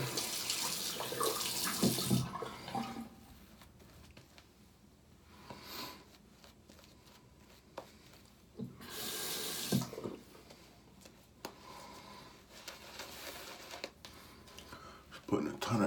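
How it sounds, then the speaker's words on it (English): Tap water runs in bursts onto a shaving brush at a sink, several separate rushes of flow with pauses between, while someone talks over it. "Just putting a ton of extra water in that brush there."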